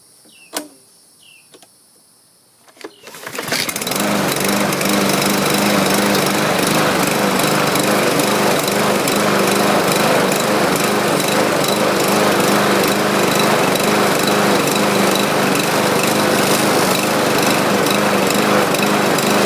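After a few seconds of quiet with faint knocks, a free roadside lawn mower with a rust-flaked deck starts up and then drones loudly and steadily at close range, a constant rough engine roar.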